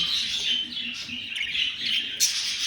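A flock of budgerigars chirps and chatters continuously at close range, with dense overlapping tweets and a few sharper calls, and no talking.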